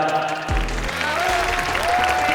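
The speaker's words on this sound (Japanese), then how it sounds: "今一度盛大な拍手をお願いしま" Audience applause at a RIZIN mixed martial arts fight event, a broad wash of clapping and crowd noise held steady for a couple of seconds, with a low hum entering partway through.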